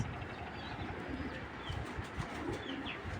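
Big black checker racing pigeons coo softly and repeatedly in a loft, low throaty calls over a steady rustling background, with no talk.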